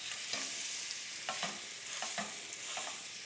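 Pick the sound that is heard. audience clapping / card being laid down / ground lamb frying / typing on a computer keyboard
ground lamb frying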